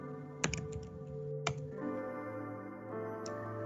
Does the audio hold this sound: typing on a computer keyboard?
yes